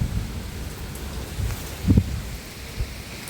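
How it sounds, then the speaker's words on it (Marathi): Heavy rain pours in a dense, steady wash with low rumbling gusts of wind, swelling and easing slightly throughout. "बापरे खूप पाऊस आहे"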